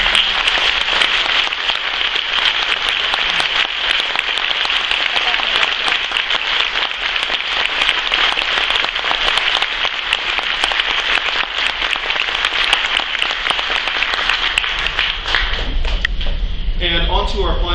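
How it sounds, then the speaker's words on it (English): A concert audience in a school band setting applauds, a dense steady clapping that stays loud for most of the stretch before tapering off near the end. "Give these folks a round of applause."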